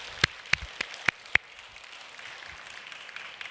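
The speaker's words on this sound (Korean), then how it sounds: "하나님께 영광의 박수 한번 올려드리도록 하겠습니다." At a Wednesday morning women's church service, a few sharp, distinct claps ring out near the start and then thin away into soft room noise, as the congregation briefly applauds to give glory to God.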